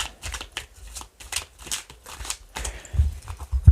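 Tarot cards being shuffled for a reading, a series of quick, papery riffling bursts in an irregular rhythm, close and moderately loud, with soft thumps as the deck is handled.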